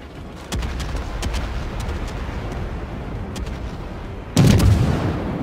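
USS Pensacola cruiser guns firing in World of Warships, two heavy booming salvos: one near the start and a louder one near the end, over a constant engine rumble.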